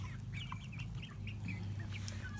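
A mixed flock of chickens, newly introduced birds among an established group, clucks and murmurs continuously at close range, with overlapping calls and low steady chatter throughout.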